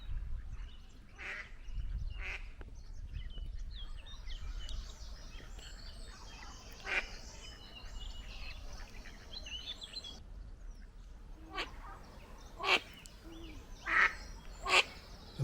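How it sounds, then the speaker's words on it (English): Mallard ducks quack in scattered bursts by a stream where moorhens and ducklings gather, the calls moderately near and rising toward the end over a steady outdoor background. "Just a whole bunch of mallards."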